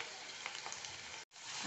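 Onion and tomato sauté in hot oil for a soaked chickpea curry, giving a steady, even sizzle close by with a brief cut-out near the end.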